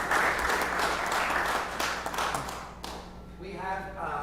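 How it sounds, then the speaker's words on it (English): A crowd gives a round of applause at a ceremony for the 2021 strongest town in America, dense clapping that thins and fades toward the end as a voice begins speaking. "give yourselves a round of applause"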